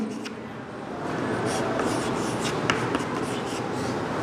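Chalk or marker writing the names of the days on a classroom board during a maths lesson, a steady scratchy scraping that runs nearly continuously, close and moderately loud.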